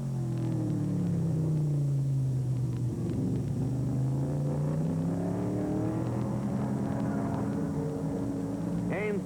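1967 Trans-Am race cars on the last lap make a loud, continuous engine roar that swells and falls as cars pass, heard from trackside, while a commentator talks over the noise.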